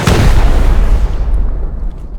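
Rocket explosions in the video game Rust, three rockets striking a duo's base during a raid: a loud, heavy boom at the start whose deep rumble rolls on and slowly fades, with no talking over it.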